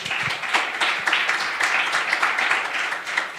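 Audience applause at a European youth and elections conference, a steady wash of many hands clapping at moderate loudness, dense and continuous throughout without any speech.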